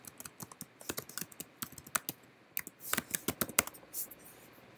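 Rapid, irregular clicks of a computer keyboard being typed on, close and fairly quiet, with short bursts and pauses while a registration name is entered, no voices.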